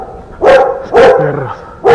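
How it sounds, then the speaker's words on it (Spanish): Dogs bark outdoors near a path through tall grass, three loud sharp barks spaced about half a second apart, with a brief lower whine between them. "Perros."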